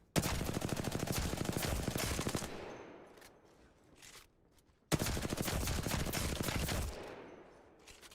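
Sustained automatic fire from a TMR rifle in a video game, loud and continuous for about two and a half seconds, then a short quiet gap before a second equally dense burst that trails off near the end.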